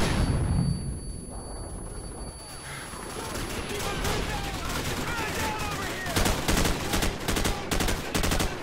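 Rapid gunfire in Call of Duty 4 crackles in dense automatic bursts. It builds from quieter shots into loud, sustained fire that ends in choppy, repeated volleys.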